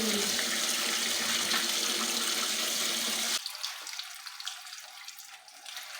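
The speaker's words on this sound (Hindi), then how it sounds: "आप बड़े बर्तन में लें पालक और उसमें पानी खुला छोड़ दें।" Tap water pouring into a large pot to wash spinach, a loud steady gushing rush that cuts off abruptly partway through, leaving quieter splashing and dripping sounds.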